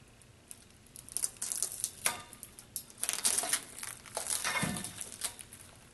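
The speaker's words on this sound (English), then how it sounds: "I'm now going to carefully cut them apart using a box cutter." A box cutter slices through packaging around boxed metal rails, giving faint crinkling, crackling plastic and cardboard sounds in short irregular bursts, close and quiet, no voices.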